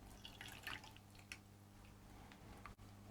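Boiling water is poured over a metal slot car chassis in a kitchen, a faint, close trickle with a few small drips and splashes.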